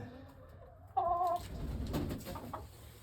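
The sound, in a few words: hens clucking contentedly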